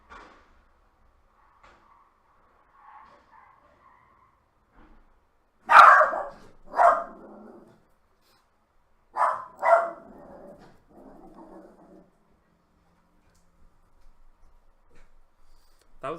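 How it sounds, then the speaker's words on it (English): A dog gives a short, sharp yelp followed by a few distinct barks, spaced out over several seconds and fairly close, with quieter scattered noises between them in an otherwise hushed room. "It sounded like a dog yelping and then barking."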